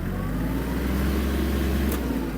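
Kubota GL-25 Japanese mini tractor engine running steadily while driving at high gear and top speed, a loud continuous low droning hum with no talk.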